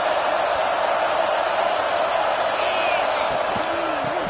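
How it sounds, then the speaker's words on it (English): A big football stadium crowd roaring steadily as the defense holds near the goal line, a dense continuous wall of cheering and noise. "this big crowd doing everything possible to inspire this defense down here near the goal line"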